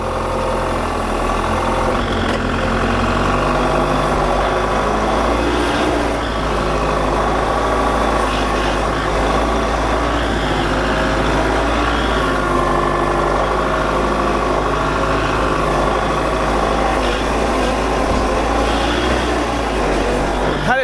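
A 4-in-1 loader's engine runs loud and steady while its front blade skims and cuts into soil, a constant low diesel drone with no pauses throughout.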